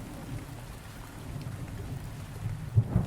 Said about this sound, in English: Can't hear you over the rain.